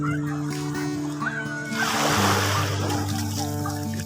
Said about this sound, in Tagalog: Napakaganda ng lagas-las ng alon.